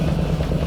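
A 1969 Chevrolet Camaro Z/28 with a Cross Ram engine idles cold up close, giving a steady, deep, throbbing rumble.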